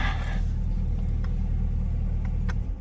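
A Chevrolet Camaro ZL1 1LE idles with a deep, steady engine rumble close by, then cuts off abruptly near the end, leaving near silence.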